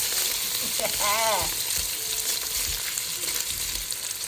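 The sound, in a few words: sausage frying in a pot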